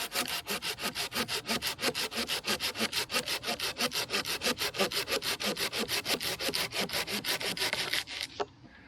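A hand saw cuts through a thick piece of wood in quick, even back-and-forth strokes, loud and close, around thirty rasping passes before the cut finishes and the sound drops away.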